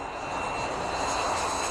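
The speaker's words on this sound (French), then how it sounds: "Dans la ville de Nome, côté américain, un avion se pose tous les matins à 10h30." A propeller airplane lands in the Arctic town of Nome, Alaska, its engine drone loud, steady and close for the whole stretch with no voices.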